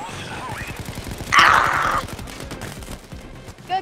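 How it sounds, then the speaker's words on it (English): Gunfire from a heist shooter video game, Payday 2, sounds as a brief burst of rapid shots in the middle, surrounded by quieter game noise and a voice. "Stop shooting at me"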